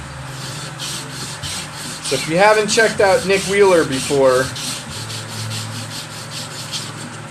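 Hand sanding on wood makes a steady rhythmic scrubbing rasp, stroke after stroke throughout, while someone talks over the middle of it.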